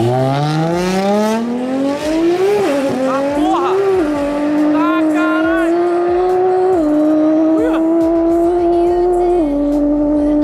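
A drag-racing car launches hard at a Brazilian drag strip event, its engine screaming loud and close as revs climb through several gear shifts over a steady roar, with brief tire squeal early on.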